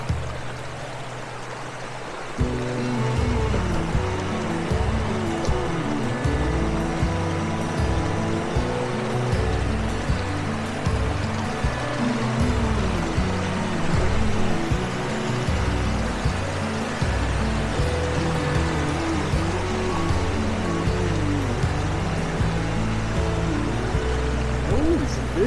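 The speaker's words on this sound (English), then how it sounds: "Little log waterfall." Water pours steadily over a small log waterfall in a mountain creek, a continuous close, full rushing and splashing that starts after a brief quieter moment.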